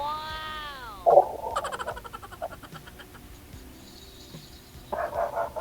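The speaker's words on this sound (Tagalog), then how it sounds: "Ayun, tumatahol na yung aso." A dog barks with one sharp, fairly loud bark near the start. A second burst of barking comes toward the end, with quieter background noise in between.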